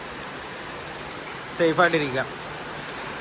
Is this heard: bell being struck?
no